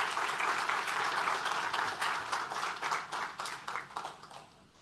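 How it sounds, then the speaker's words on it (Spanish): Audience applause at an academic talk, a steady wash of many hands clapping that gradually thins and fades toward the end. "también un aplauso para Daniel"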